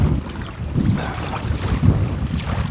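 Strong wind gusts roar across a beach campsite, buffeting the microphone in uneven surges with a low rushing blur and no voices.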